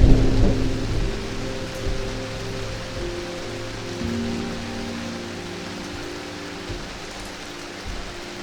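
Rain pours steadily outside on the Annapurna Base Camp trek in Nepal, with a deep rumble of thunder at the start fading into a constant soft hiss of rainfall.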